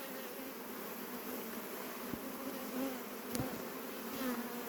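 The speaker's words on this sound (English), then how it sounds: "Beware, you've got the bees." Honeybees buzz around an open beehive during beekeeping, a steady close drone of many insects with a few brief knocks and clicks on top.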